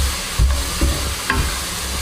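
Ground onion frying in a pan for Tamil chicken gravy: a close, steady sizzle with a few soft stirring thumps and scrapes, no voices.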